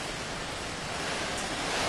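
Wind drives rain spray against a building in a continuous, loud rushing hiss that stays steady and grows slightly stronger, with no voices.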